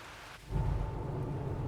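Steady broadband rain hiss with a low rumbling layer in the train-driving game Derail Valley, starting abruptly after a brief quiet moment and continuing evenly, with no voices.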